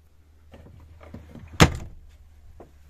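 A cupboard door inside a camper van opens with a soft creak and a sharp clack or latch knock midway, surrounded by small rustles and faint handling knocks.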